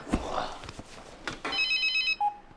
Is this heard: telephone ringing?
yes